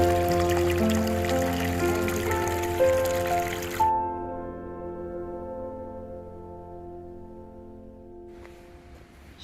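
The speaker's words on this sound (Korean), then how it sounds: "아유, 물소리." Water flows and trickles steadily at an arboretum, loud at first, then thinning to a softer, quieter stream for the rest of the clip.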